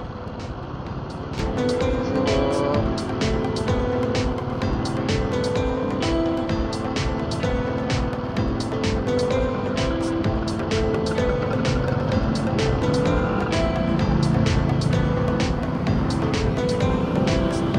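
Steady road traffic while riding along a road past cassava fields, a continuous loud blend of engines and passing vehicles with a constant drone and rapid ticking clatter throughout, no talking.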